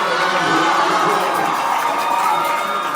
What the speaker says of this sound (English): And this crowd up on their feet